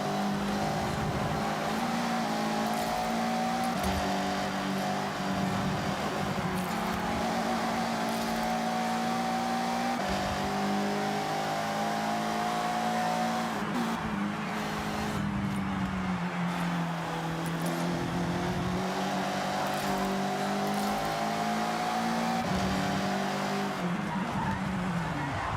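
A car in the video game Forza Horizon revs hard while the driver uses the handbrake to kick out the rear. A steady, loud engine note rises and falls through gear changes, with tyre noise under it.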